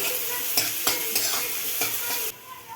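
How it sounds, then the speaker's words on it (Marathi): Onion frying in hot oil in a pan for paneer bhurji, a steady loud sizzle broken by several rhythmic scraping stirs of a spoon, ending with the sizzle dropping quieter. "आणि आता ह्याच्यामध्ये घालायचा आहे कांदा कांदा भाजून घेणार"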